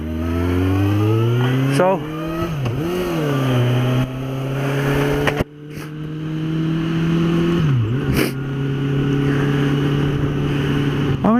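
A Suzuki GSX650F motorcycle engine starts and revs on a cold road, with rising and falling throttle blips and a steady idle between them, loud and close, after a brief spoken word.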